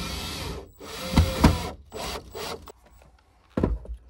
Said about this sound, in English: throw some drywall screws in here